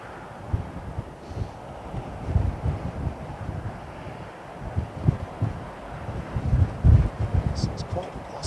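Gusty, blustery wind buffets the microphone at Heathrow Airport in uneven rumbling surges, loud and close, with faint distant sounds behind it.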